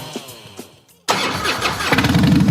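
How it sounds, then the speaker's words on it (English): After a brief quiet pause, an American motorcycle engine suddenly fires up loud and rough, settling into a heavy, rumbling idle that builds slightly. "This is the sound of a popular American motorcycle."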